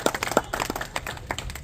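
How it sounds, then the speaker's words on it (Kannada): Scattered hand claps from a community gathering welcoming a felicitation ceremony for a minister in Mudhol, a brief, thin patter of irregular claps at moderate distance. "ಚಪ್ಪಾಳೆ ಮುಖಾಂತರ ಈ ಒಂದು ಕಾರ್ಯಕ್ರಮವನ್ನು ಸಮಾಜದವರು"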